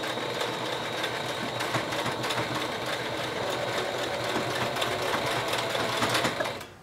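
A small sewing machine stitches a protective fabric mask, giving a steady, close mechanical whir with rapid needle rattle that runs unbroken and stops right at the end.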